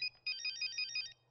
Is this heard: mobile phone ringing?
yes